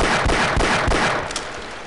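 Gunfire in the shooter game Half-Life, a loud, close burst of several rapid cracking shots with a booming low end, fading slightly toward the end.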